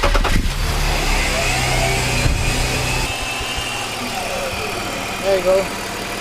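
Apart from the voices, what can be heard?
2005 BMW X5 E53 engine started and idling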